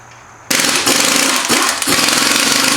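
An impact wrench on a 2010-2017 Chevrolet Equinox bursts in after half a second of quiet and hammers loudly and steadily, removing swollen lug nuts from the wheel with a rapid rattling impact.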